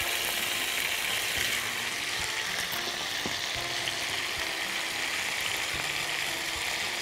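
Onion frying in a pan for mustard-sauce chicken breasts gives a steady, dense, close sizzle with a few faint scrapes and clicks of stirring.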